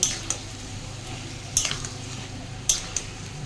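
Tomato with ginger-garlic paste frying in a pan, a low steady sizzle broken by a few sharp clinks and scrapes of a spatula against the metal.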